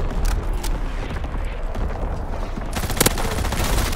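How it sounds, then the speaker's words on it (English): An artillery strike fires in Call of Duty WW2, a loud, dense barrage of rapid gunfire and blasts rolling on without pause, with a sharp burst standing out near the end. "Coordinates confirmed. Firing on target."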